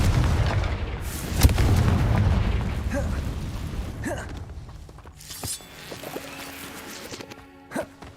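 A Confringo fire spell bursts in the Hogwarts Legacy game with a booming explosive hit near the start, then crackling and creaking game effects fade out, with no voices.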